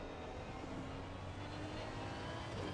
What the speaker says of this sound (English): let's have the sound of that V12 Aston Martin ringing through our ears